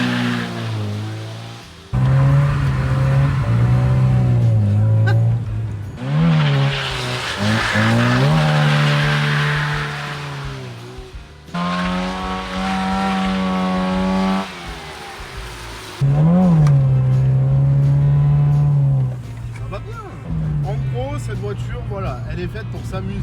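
A car drifting through tight corners, its engine revving and easing in repeated surges with tyre squeal, loud and close, while someone talks over it.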